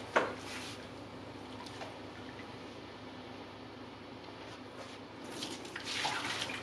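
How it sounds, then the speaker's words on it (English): Water from a water-bath canner jar pours and splashes steadily into a sink in a continuous hiss, with a few louder splashes near the start and end. "I have to pull my jars out and empty the water into the sink"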